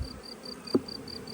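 Honey bees hum faintly around a hive while field bees are still foraging, a soft insect buzz with one louder close pass of a bee and a faint regular chirping in the background.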